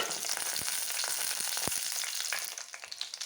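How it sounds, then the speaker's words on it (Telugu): Dried red chillies fry in hot oil in a kadai on the stove while preparing yellow cucumber chutney. A steady, close crackling sizzle is broken by sharp pops, with no voices. "స్టవ్ మీద కళాయి పెట్టుకొని ఆయిల్ వేసుకొని కొంచెం హీట్ అయ్యాక ఎండుమిర్చి ఫ్రై చేసుకోవాలి"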